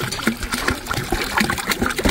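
Ice-cold water spills and splashes from a can at a campsite near Cloud End, Mussoorie, a close, busy patter of splashes and trickling running continuously without talk.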